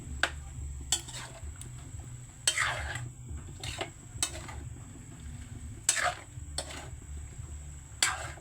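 Ginataang langka, jackfruit in coconut milk, being stirred in a cooking pot: a quiet spoon scrapes and clinks against the metal in irregular strokes over a soft, steady simmer.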